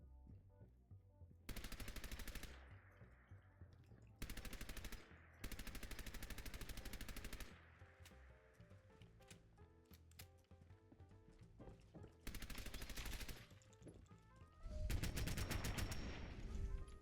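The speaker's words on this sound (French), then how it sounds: "J'ai une mitrailleuse." Submachine gun fire in the video game Fallout 4, several sustained automatic bursts of rapid shots separated by pauses, over a low background game drone.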